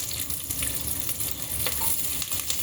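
White onion sizzling steadily in hot oil in a pan, a dense continuous crackle and spatter heard close up with no talking.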